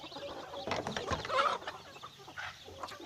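A hen clucks among her small chicks on a provincial poultry farm, with close, repeated clucks and soft peeping notes in a short burst over light outdoor background noise.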